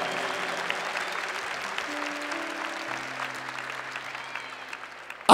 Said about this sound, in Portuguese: Aplauda o Senhor, aplauda o Espírito Santo